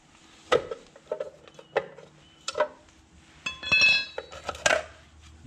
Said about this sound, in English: you got to take the wheel cover off